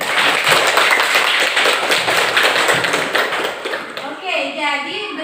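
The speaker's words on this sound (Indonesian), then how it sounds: "Beri tepuk tangan dulu untuk si Alin." A classroom of students claps for a classmate, a brisk, dense patter of hands that fades toward the end as voices and chatter rise underneath.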